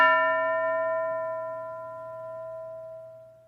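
A single classroom bell strike rings out clearly and decays slowly over a few seconds, its tone sustained and resonant with no talking.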